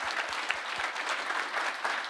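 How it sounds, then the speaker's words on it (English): Audience applause for the panelists at the close of a digital trust conference session, a steady dense clapping wash lasting the whole stretch at moderate level, with no voices over it. "everyone could give a round of applause for my amazing panelists"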